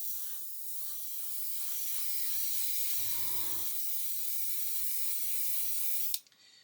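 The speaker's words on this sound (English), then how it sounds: "So when we spray the tyres, if we just do this," Steady broadband hiss of an airbrush spraying paint onto model tyres continuously for about six seconds, close and even, with a short low hum in the middle before it cuts off.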